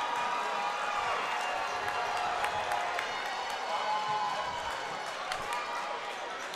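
Crowd noise fills a high school basketball arena as a home player's dunk stretches the lead, steady cheering and clapping running throughout with occasional ball bounces and a commentator's voice over it.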